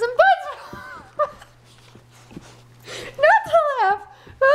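Puppies whimper and yelp in high, wavering cries while playing close by, with scuffling between the cries and people talking and laughing in the background.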